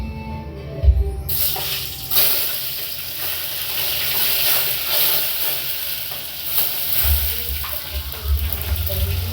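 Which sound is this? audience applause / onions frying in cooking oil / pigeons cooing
onions frying in cooking oil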